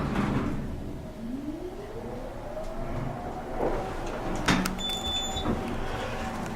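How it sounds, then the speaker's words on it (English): An old Otis traction elevator's sliding door rolls shut in a Buffalo Building in Johnstown, PA: a rising mechanical whine and rumbling slide ending in a clunk and rattle, with a faint electronic tone near the end. "Door closes when you push the button."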